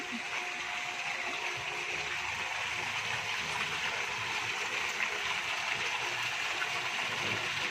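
Water pours steadily into a resort swimming pool as it is refilled, a constant rushing gush with a faint mechanical hum beneath it, unbroken throughout.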